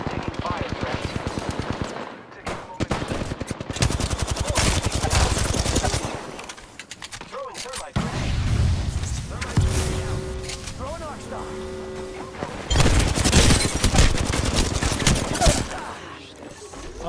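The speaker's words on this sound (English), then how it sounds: "Shots fired at me." A video game firefight, with loud bursts of automatic gunfire and scattered single shots spread across the round, under a player's running commentary and in-game voice callouts.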